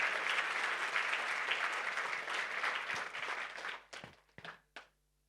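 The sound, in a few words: audience applause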